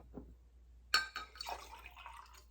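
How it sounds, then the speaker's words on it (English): Water is poured into a glass science beaker, filling it about halfway: a faint splash and trickle with light glassy ringing, quiet and close, without talk. "Filling it about halfway full with water."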